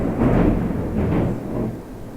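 Thunder from a lightning storm rolls in a low, heavy rumble that swells twice and then fades, heard at a distance without talk.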